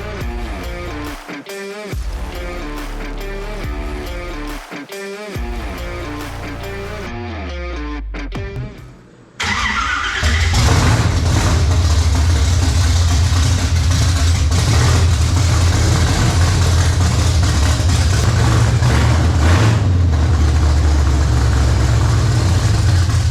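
A 1974 Camaro Z28 with a 383 engine and open headers fires up after a stretch of clattering garage noise, then runs with a loud, raw, rumbling idle heard close by with steady revs and no talking.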